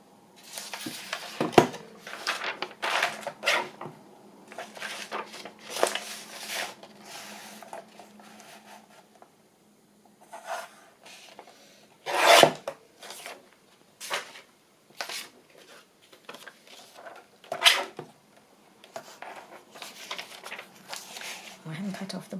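Paper being trimmed in a craft journal, scattered snips and rustling cuts in short bursts with a louder slice near the middle, mixed with handling noises and a speaking voice throughout.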